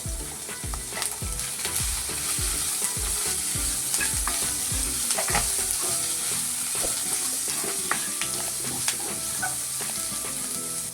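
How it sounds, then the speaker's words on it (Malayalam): Onions sautéing in a pan with turmeric and salt for a Kerala mushroom roast, a steady sizzle with repeated stirring scrapes and spoon knocks throughout, close and continuous, with no talk. "ആവശ്യത്തിന് ഉപ്പിട്ട് വഴറ്റുക"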